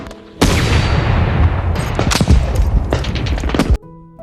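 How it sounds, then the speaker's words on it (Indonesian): Heavy gunfire from a World War battle scene, with a German soldier firing from a distance: a loud, continuous barrage of overlapping shots and booms lasting several seconds, with sharp individual cracks near the end before it stops abruptly. "pria Jerman yang beberapa waktu lalu diloloskan oleh Kapten John, malah menembaki Kapten John dari kejauhan"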